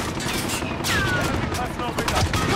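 Rapid automatic fire from the SA-87 rifle in Call of Duty: Modern Warfare, a dense, continuous volley of loud close shots with a whizzing streak partway through, set against busy battlefield noise.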